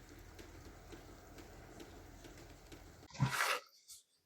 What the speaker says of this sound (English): the sound of dripping is the dampness coming off the roof